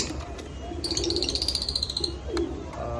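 Fancy pigeons coo softly nearby in low, throaty bursts, with a high bird chirp ringing out over them partway through.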